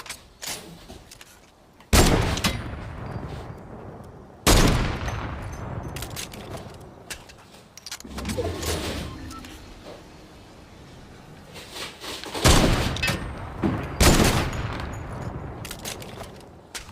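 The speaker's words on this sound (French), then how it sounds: "Les coups de feu provenaient d'ici." In the game Fortnite, several loud bursts of gunfire crack out at irregular intervals, some sharp and close, others rolling and echoing, with quieter stretches of ambient noise between them.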